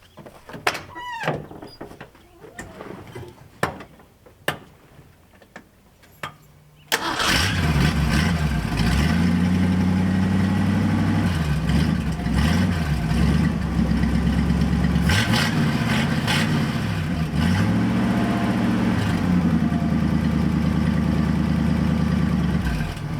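A few clicks and rattles, then a Ford 302 V8 in a Mustang Cobra abandoned for 27 years cranks and catches at once, settling into a loud, rough, lumpy idle with occasional small revs.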